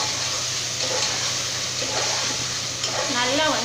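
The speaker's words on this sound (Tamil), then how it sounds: "இப்போ இது எல்லாமே சேர்த்துட்டு நல்லா வந்து நம்ம வதக்கி விட்டுக்கலாம்." Onions and tomatoes sauté in a pan for a mushroom biryani, giving a steady wet sizzle with soft stirring under a person talking.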